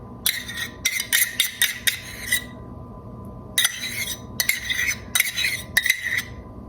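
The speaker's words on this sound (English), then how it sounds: "I want to add this and mix the brown sugar and the mayonnaise together" Mayonnaise and brown sugar mixed together in a small cup, a spoon clinking and scraping rapidly against the sides in quick bursts separated by brief pauses, close and clear with no voices.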